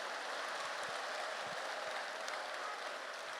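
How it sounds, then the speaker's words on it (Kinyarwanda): Church congregation giving God a long round of applause, a faint, even wash of many hands clapping heard from a distance, steady with no talk. "Iyo Mana wayiheza amashyi menshi, yiheza amashyi menshi."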